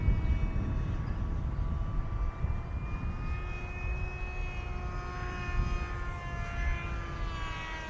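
AtomRC Dolphin Pro RC plane flying slowly overhead: a steady propeller and electric motor drone with a faint whining tone that shifts gently in pitch as it passes, under a soft outdoor background.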